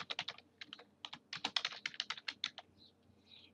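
A computer keyboard clatters with rapid, close typing as a name is entered into a health insurance enrollment form, steady bursts of key clicks that slow and fade toward the end.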